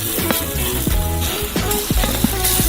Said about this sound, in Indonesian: Angkat irisan daging dengan spatula, lalu balikkan. Di sisi ini goreng 10 menit.